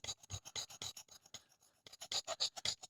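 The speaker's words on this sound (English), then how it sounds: "just get a bevel knife and kind of do this across it." A bevel knife scrapes across the surface of a drilled bowling ball in repeated rasping strokes, close and fairly loud, with a brief quieter pause midway before the strokes resume.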